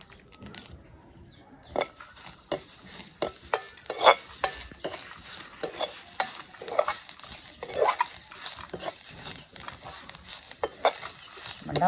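Steady scraping and stirring of coconut roasting in a pan with a soft sizzle underneath, repeated spoon strokes against metal at an even pace, close by.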